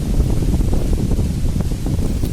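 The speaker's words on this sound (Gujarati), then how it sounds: "મસ્ત પવન છે આજ તો, ઠંડો ઠંડો." A cool wind blows outdoors on the way to a village temple, buffeting the microphone with a low, gusty rumble that stays close and steady.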